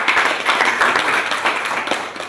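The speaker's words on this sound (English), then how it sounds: "Let's give you a round of applause for everyone." Dense, steady clapping from an audience gathered for an evening event, loud and continuous across the whole stretch with no voices over it.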